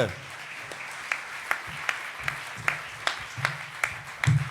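An audience at a comedy festival closing ceremony claps in a rhythmic, evenly spaced beat over a quieter background of applause, with a louder burst at the end.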